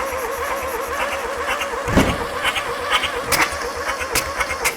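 Air-cooled 1500 VW Beetle engine, unstarted for 50 years, cranking with a steady rhythmic churn of the starter, sputtering with a few sharp pops and surges as it tries to catch.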